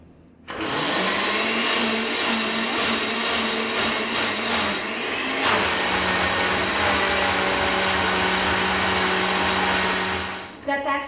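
A kitchen blender whirs steadily at close range, mixing ingredients with a small amount of water, a sustained motor drone running for about ten seconds before cutting off.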